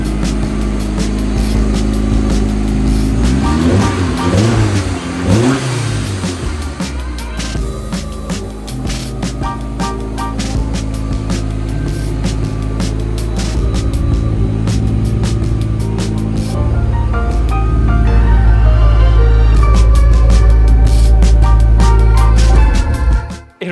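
A turbocharged Mazda Miata engine, freshly fitted with a replacement head after a cracked one, cranks and fires, then runs loud and close with a rough, steady idle and a few revs, and the drone rises toward the end.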